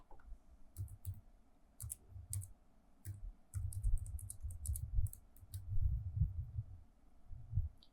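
Computer keyboard keys tapped as a student ID and password are entered, irregular bursts of soft close clicks with pauses between, quiet with no talk.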